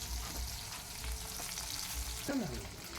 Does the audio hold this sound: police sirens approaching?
no